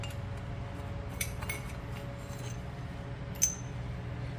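Four Harley Sportster Evo cylinder head bolts clinking together, a few light metallic chinks spread over a quiet room with a faint steady hum behind them.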